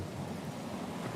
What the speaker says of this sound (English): The storm's pretty loud.